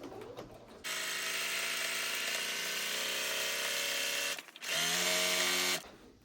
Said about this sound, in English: And you can do this with a serger or with a zigzag stitch.